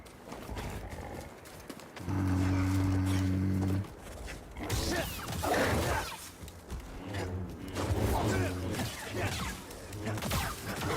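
Goats in the Star Wars Jedi: Fallen Order video game give a drawn-out, low bleating call lasting about two seconds, set among busy game sounds and clopping hooves.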